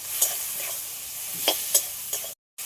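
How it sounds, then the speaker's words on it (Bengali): Shrimp fries lightly in a pan with a steady, close sizzle and a few stirring scrapes. There is a short silent gap near the end, and nobody speaks. "চিংড়ি মাছ দিয়ে দেবো এর মধ্যে হালকা করে ভেজে নেবো"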